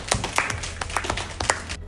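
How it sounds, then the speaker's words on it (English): A small group of kids and adults in an Igbo language class clapping, sparse individual claps with irregular rhythm, close and fairly loud over a low background hum. "Give her a round of applause."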